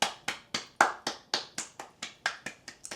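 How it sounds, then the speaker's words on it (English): A single pair of hands claps about a dozen times in a steady, even rhythm, close and crisp, with no voices. "Deserves a round of applause."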